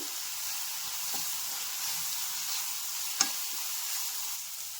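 Quiet, steady sizzle of ground pepper and garam masala powder frying in a pan for masala toast, a soft continuous hiss with a faint stir or clink near the middle.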